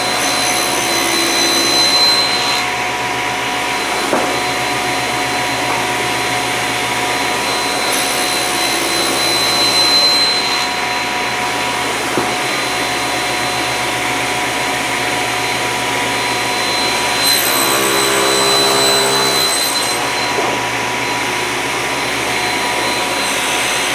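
Power saw running continuously while making a tenon shoulder cut in wood, a steady loud whirring drone with slight shifts in pitch and intensity throughout, no voices.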